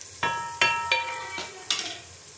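Lassi premixed with gram flour is added to masala frying in a pan for kadi pakora, giving a few separate clinks and scrapes of a spoon against the pan over a quiet background.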